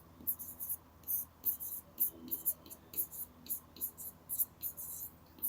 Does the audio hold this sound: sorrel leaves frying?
no